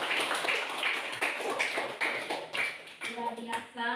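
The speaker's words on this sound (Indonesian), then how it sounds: "Ibu minta kalian semua tepuk tangan dulu" A class of students clapping together in a classroom, a dense burst of rapid hand claps close by that fades as a voice comes in near the end.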